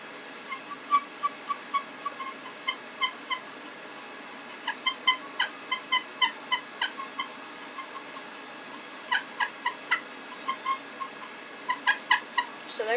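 A handheld turkey pot call scratched with a striker mimics a hen's cut, giving sharp, clucking yelps in irregular bursts and short rapid runs, loud and near against a quiet background.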